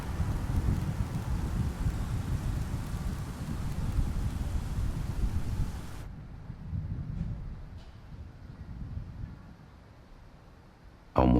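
Steady afternoon rain in São Paulo, a dense broadband wash that holds evenly for about six seconds, then thins to a softer, quieter patter with faint distant rumble until a sharp cut at the end.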